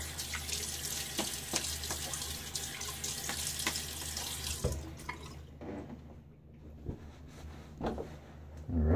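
A bathroom tap runs steadily into a sink for face rinsing before a shave, the water flow continuous at first, then cut off, leaving a few scattered drips and splashes near the end.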